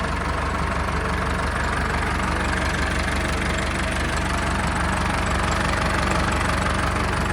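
The diesel engine of a 1996 Mitsubishi Canter truck idles loudly and steadily up close, with an even, continuous rhythmic clatter and no voices.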